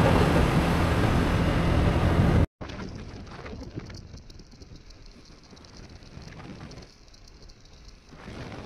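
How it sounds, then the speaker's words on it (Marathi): Dense, heavy monsoon rain on a motorcycle ride from Nashik to Bhandardara Dam hissing loudly, then after an abrupt cut it continues as a softer, steady downpour. "खूपच जोरात पाऊस आला म्हणून आम्ही एका ठिकाणी थांबून घेतलं."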